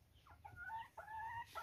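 Pet chickens clucking close by in a farmyard, a few short rising and falling clucks in quick succession over a low background hum.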